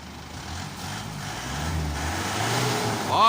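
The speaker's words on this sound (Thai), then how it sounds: "เร่งเครื่องหน่อย เร่งอีก เร่งหน่อย เร่งเครื่องนิดนึง" Car engine revving hard while its exhaust is flushed of black smoke, a steady loud drone that builds in intensity toward the end, with no talk over it.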